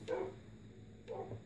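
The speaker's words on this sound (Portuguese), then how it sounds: "Ó, tem até um cachorro aqui, mano." A dog in Minecraft gives two short, faint barks about a second apart over a low background hum.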